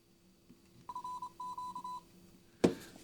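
A Retekess TR112 all band radio beeps a short series of Morse-like CW tones at start-up, quiet and close, followed by a brief click or thump.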